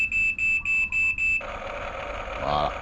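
A radio-controlled construction model powers on with a run of about five loud, evenly spaced electronic beeps, then its motor starts with a steady whirring hum.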